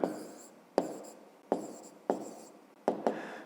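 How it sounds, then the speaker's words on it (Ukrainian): Pen or pencil strokes on paper while an answer to a fifth-grade maths exercise is written by hand, five or six distinct scratchy strokes each starting sharply and fading, close and quiet with no speech. "Пишемо відповідь."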